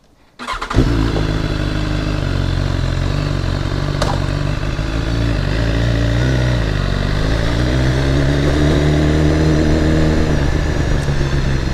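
A BMW S1000RR motorcycle engine roars loudly and steadily while riding, its revs rising and falling with a gritty, continuous drone close to the rider.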